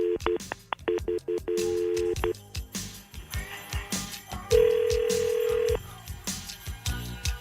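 A telephone dials out a call: a quick run of DTMF key tones, then a steady ring tone and further clicks and beeps, loud and close with no talking.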